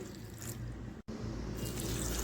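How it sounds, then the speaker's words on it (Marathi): Leafy chandan batwa greens being washed in clean water, a steady, close wash of splashing and trickling that briefly drops out partway through, with no talking. "भाजी स्वच्छ अशा पाण्याने दोन वेळा धुवून घेत आहे"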